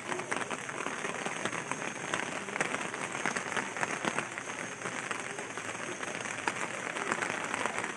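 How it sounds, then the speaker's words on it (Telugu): Heavy monsoon rain pours down in a dense, steady hiss of countless drops striking surfaces, continuous and even throughout with no talking. "చూసారా వర్షం ఎలా పడుతుందో, బాగా పడుతుందండి పెద్దగా."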